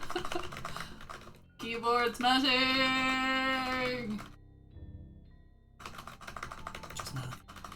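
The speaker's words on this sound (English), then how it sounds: "Keyboard smashing!" Rapid keyboard typing clatters in dense bursts in the game Doki Doki Literature Club, broken by a sustained tonal, ringing passage and a short pause, with a voice speaking briefly over it.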